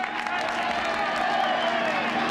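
A large crowd cheers in a scene from the film Dog Day Afternoon, rallying a man on. Many voices and some clapping merge into a dense, steady, loud roar that fills the whole stretch without pause.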